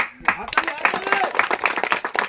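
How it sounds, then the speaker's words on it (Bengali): An audience claps during a stage play about saving the Sundarbans mangrove forest, steady clapping mixed with overlapping voices for about two seconds. "আপনারা নিজেদের জন্য একটা হাততালি দিন"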